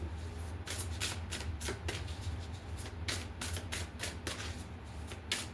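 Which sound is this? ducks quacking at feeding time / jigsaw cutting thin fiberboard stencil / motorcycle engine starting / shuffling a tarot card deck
shuffling a tarot card deck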